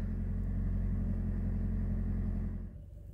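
A Toyota Auris (Corolla E15) engine idles with a steady low hum and rumble, close and even, then drops noticeably quieter near the end as the idle settles.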